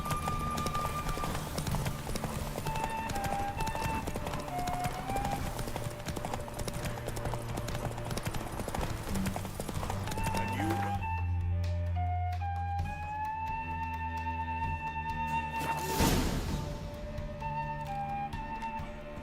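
Roach, the horse in The Witcher 3, gallops with a brisk, steady clip-clop of hooves over a game music bed, with a brief swell of effects near the end.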